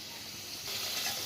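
Potatoes sizzling in hot oil in a pan for a mutton curry, a continuous close crackling hiss that swells slightly louder partway through, with no talking.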